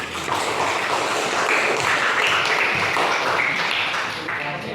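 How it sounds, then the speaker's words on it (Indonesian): Students in a classroom applaud a group, a steady wash of clapping from many hands, fairly loud and continuous from start to finish. "Tepuk tangan dulu untuk kelompok 5"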